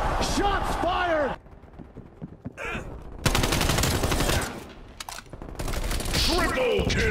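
Rapid automatic gunfire from a video game fills two long stretches with loud, dense bursts, separated by quieter moments with scattered clicks. A voice is faintly heard alongside.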